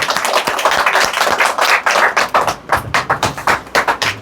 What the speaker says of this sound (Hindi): आइए प्रॉफिट जी का स्वागत करते हैं, ताली बजाइए सब लोग।